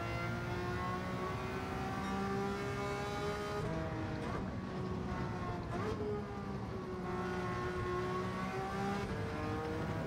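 Ferrari 330 P4 race car engine in Gran Turismo 7 on Sardegna Road A, a steady high-revving drone with rising and falling pitch through gear changes and corners, loud and continuous with no talk.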